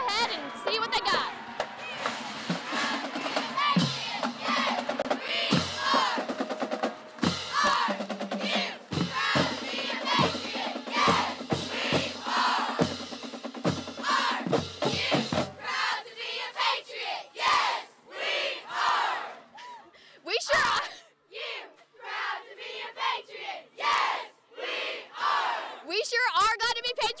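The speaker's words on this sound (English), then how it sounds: "the cheerleaders are going to do a cheer for us to kick off this Friday morning pep rally" A high school pep rally on a Friday morning at Jefferson County High School, where cheerleaders shout a rhythmic cheer with sharp claps or stomps over a loud, echoing crowd, followed by cheering and scattered yells.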